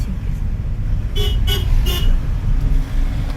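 A car horn gives three short toots in quick succession over the steady rumble of an engine and road noise.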